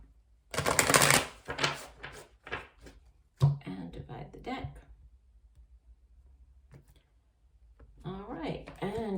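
Tarot cards are shuffled by hand in a quiet room, with quick riffling bursts and scattered clicks and taps, fairly close, followed by a lull and then faint sounds toward the end.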